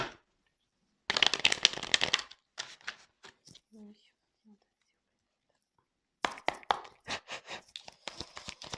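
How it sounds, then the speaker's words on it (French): Tarot cards being shuffled and drawn by hand, coming as two dense bursts of riffling and flicking with soft handling sounds and quiet pauses between, close and fairly quiet. "J'ai préféré faire le tirage devant vous, comme ça, au moins il n'y a pas de triche."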